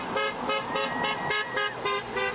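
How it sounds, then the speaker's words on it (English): Passing drivers honk their car horns over and over in support of striking Clark County teachers in Vancouver. The honks are steady, rhythmic toots and come through clearly over traffic noise. "Drivers honk in support of teacher striking throughout Vancouver."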